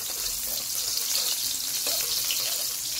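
Onions hit a hot pan already holding chili for pork humba, giving a loud, even sizzle with faint scraping and clicks underneath, close up and with no talk.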